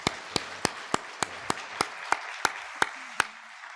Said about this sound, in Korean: 우리 이재은 좋은 대학에 잘 갈 수 있도록 박수합시다